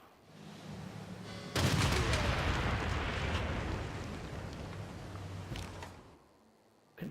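A battleship's bombardment in Civilization VI erupts as a sudden loud blast, then rolls into a long rumbling roar that slowly fades before a sharp final hit at the end.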